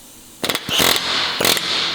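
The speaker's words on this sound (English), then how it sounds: "And then you just use an air hammer to," An air hammer works loose a part on a 720 GTR in a garage, firing two loud, close rattling bursts separated by a brief pause, with a steady hiss of compressed air continuing underneath.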